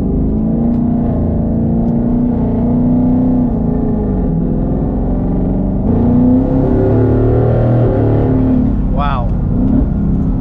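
Twin-turbo 2019 Ford Mustang GT running E85 accelerates on a street pull, a steady loud engine roar rising in pitch through the clip, with a brief exclamation from a person near the end.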